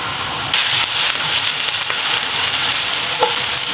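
Garlic, ginger and onion frying in a pan as they are stirred, a steady loud sizzle with scraping stirs, close up and without talk.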